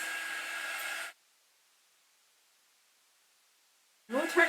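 A hair dryer blows steadily for about a second while drying a tiered tray craft, then cuts off into silence before whirring back on near the end, with a voice briefly audible as it restarts.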